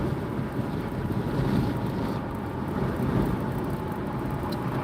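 Steady, loud wind buffets the microphone while a vehicle drives along Interstate 275 north in Tampa, a continuous rumbling roar with low road noise underneath and no talking.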